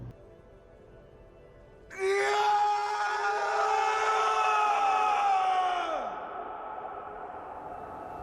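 Superman lets out a long anguished scream after killing Zod in the film Man of Steel, a loud sustained wail over a crowd-like rumble that bends downward and fades into a lingering background roar.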